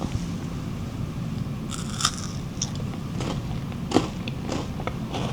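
Crunchy bites into a Lotus Biscoff KitKat bar, close to the mic, with a few sharp snaps and crackles among steady chewing noise.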